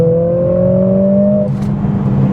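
A 2021 Mercedes CLA45s AMG in Sport Plus mode gives a loud, steady engine drone with strong tonal layers. The pitch shifts slightly partway through as the note settles into a deeper hum.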